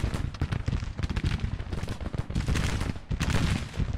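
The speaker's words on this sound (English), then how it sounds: "My artillery also appears to be firing over our lines" Howitzer artillery booms in a Grand Tactician: The Civil War battle, a dense, continuous rumble of overlapping cannon and musket fire rolling on at steady loudness with no pauses.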